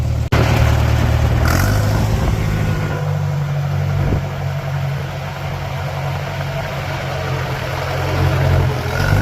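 A tractor running a Haybine mower-conditioner, with a dying hydraulic pump: a loud, steady engine drone and machinery rumble close by, with a brief clunk near the start.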